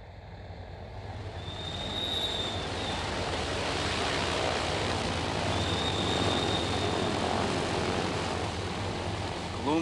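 Propeller-driven torpedo bomber taxiing on an airfield, a steady loud engine drone with broadband rumble that swells slightly after the first two seconds and holds evenly, with a faint high whine above it.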